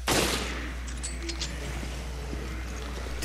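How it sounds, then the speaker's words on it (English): Rifle shots from the video game Resident Evil: Revelations, with a loud sharp burst at the start that decays, followed by a steady low background hum and a few faint game sound effects. "let's test out this rifle"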